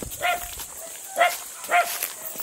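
A dog gives three sharp barks about half a second apart, moderately close, outdoors at a rural hut site, with faint background noise between the barks.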